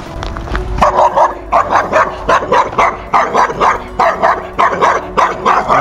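A dog barks repeatedly in a garden, a steady series of close, loud barks in quick bursts with yips mixed in, continuing throughout.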